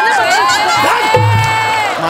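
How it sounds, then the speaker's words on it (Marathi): A television comedy show audience cheers and whoops at close range, with excited voices and shouts rising and falling over a crowd murmur. "जोरदार टाळ्या वाजून आपण खरंच स्वागत करूया"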